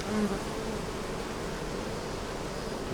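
Honey bees hum in a dense, steady buzz around a crowded nuc hive, close and continuous with no pauses.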